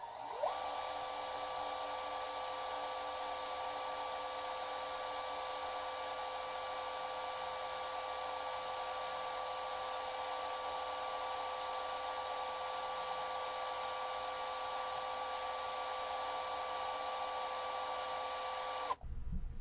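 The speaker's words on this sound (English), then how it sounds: "Pressure on the drill, pressure on your spool," A drill spins steadily to wind nichrome wire into fused Clapton coils, giving a loud, unbroken high whine for nearly twenty seconds before it cuts off at the end.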